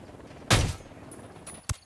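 Gunshots echo during a helicopter takedown in Ghost Recon Wildlands, a loud burst followed by sparser, fainter shots and a sharp final crack.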